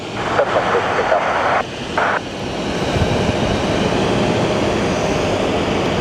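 An American Airlines jet taking off at Phoenix Sky Harbor, a loud sustained engine roar holding steady, with air traffic control radio chatter heard briefly over it near the start.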